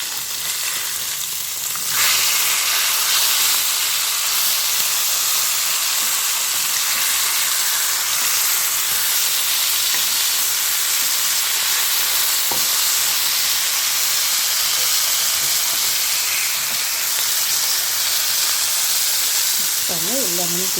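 Fish fries and simmers in a pan for a Tamil-style fish curry, a continuous loud hiss and sizzle near the listener, with a soft clink late on and no talk.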